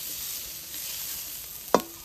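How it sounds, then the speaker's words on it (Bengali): Onion being stirred as it fries lightly in a pan for namkeen vermicelli upma, a soft steady sizzle throughout with one sharp scrape of the spoon near the end. "পেঁয়াজটাকেও হালকা করে ভেজে নেব।"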